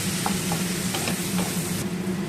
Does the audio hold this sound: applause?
no